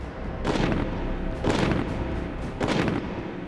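An M16 assault rifle fires three single shots about a second apart, each a sharp, loud crack with a short echoing tail.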